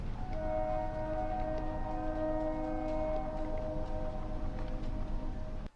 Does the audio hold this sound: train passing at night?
yes